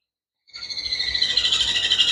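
Baby rainbow lorikeets chirping in a dense, continuous high-pitched chorus that starts abruptly and stays close and loud throughout.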